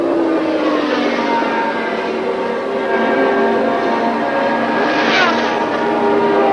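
Gilles Villeneuve's Ferrari Formula One car crests a rise at 150 mph in fifth gear at Kyalami in 1979, its engine a loud, continuous roar with a steady, slightly rising pitch throughout.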